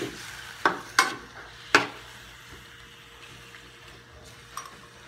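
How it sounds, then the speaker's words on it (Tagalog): Squid adobo in soy sauce and vinegar bubbles in a pan, a low simmering hiss under several sharp scraping or clanking stir hits near the start, with no talking. "Kumukulo na."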